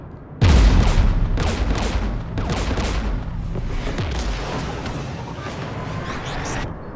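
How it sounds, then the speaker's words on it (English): Heavy gunfire in Mass Effect 3 erupts with a loud boom, then continues as dense, rapid bursts of shots and explosive impacts layered over a constant roar of battle. "We're taking fire."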